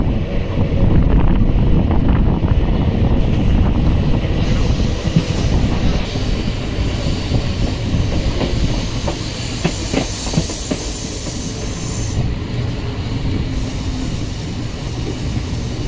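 A train rolls into Krishnamma Kona railway station on the Guntakal–Guntur line, heard as a loud steady rumble and hiss with wind buffeting the microphone throughout.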